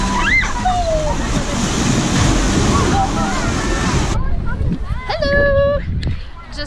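Surf washing in at 3 Steps Beach, a tiny beach in Aruba, as a steady, loud rush of waves mixed with wind buffeting the microphone. Voices and bird-like calls rise briefly over the noise.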